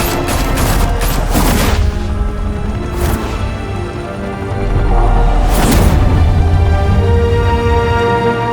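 Heavy gunfire in Batman: The Telltale Series, bursts of rapid shots and loud booming blasts over a constant roar, with a lull in the middle before another volley.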